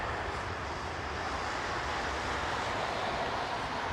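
An airliner taxis at Heathrow Airport, a steady, distant jet engine roar with a broad hiss holding evenly throughout, no voices.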